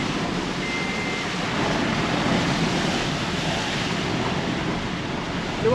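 Off-road vehicle pushing through a river during a scenic off-road rally in General Nakar, with steady rushing and splashing water close by, continuous and fairly loud, no talk.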